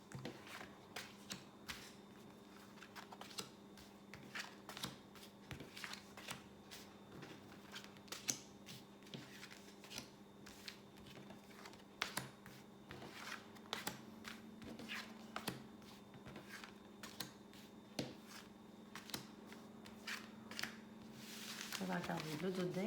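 Tarot cards being drawn and shuffled for a thirteen-card spread make repeated crisp riffling and flicking snaps throughout, with someone talking over them.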